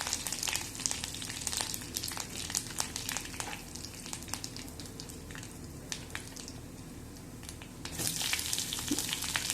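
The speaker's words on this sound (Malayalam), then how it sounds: "2 കരിവേപ്പിലയും കൂടെ ചേർത്ത് ചൂടാക്കിയെടുക്കാം. എല്ലാം നന്നായിട്ട് വഴറ്റിയെടുക്കാം." Dried chilli and curry leaves sauté in a hot pan with a busy, crackling sizzle, sharp pops and spatters over a steady frying hiss, swelling louder toward the end.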